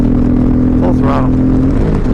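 A 2021 Indian Challenger Limited motorcycle runs at full throttle, giving a loud, continuous, deep engine drone with a steady low tone mixed with rushing wind noise throughout.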